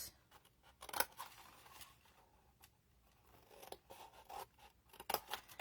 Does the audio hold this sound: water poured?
no